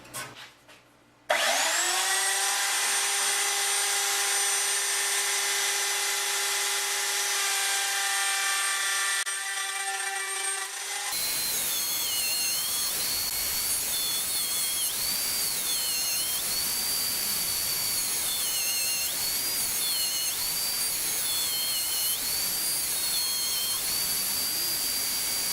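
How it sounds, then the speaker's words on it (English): A router chamfers the corners of an end grain wooden cutting board, a loud steady high-pitched whine running almost continuously with shifting pitch as the bit bites into the wood, no talking. "take the board across the router and chamfer all these corners"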